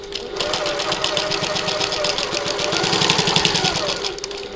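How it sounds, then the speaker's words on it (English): A sewing machine runs steadily along the edge of a button lock bag, its fast even needle chatter continuous and close for the whole stretch. "So I've sewn along the edge there."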